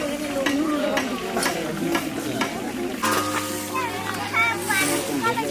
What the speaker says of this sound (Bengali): পাপড় ভাজা